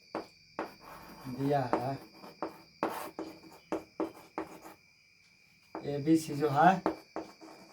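Pen writing a geometry solution on paper, scratchy stroke sounds in short bursts close by, broken up by someone speaking in Hindi over a constant high insect-like whine.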